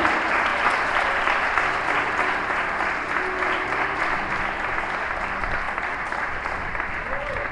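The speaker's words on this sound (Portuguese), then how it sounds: "Deu uma saudosa salva de palmas, mas bem alto para Jesus, viu?" A church congregation claps loudly and steadily, sustained applause filling the space from start to finish with some voices faintly mixed in.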